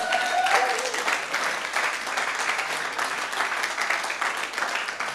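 A church congregation applauds in a steady, dense wash of clapping that fills the room for the whole stretch, loud and continuous without a break.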